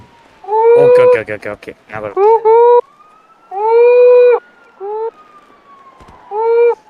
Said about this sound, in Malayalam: ഒരു സൈറൻ സൗണ്ട് കേട്ടോണ്ടിരിക്കണം.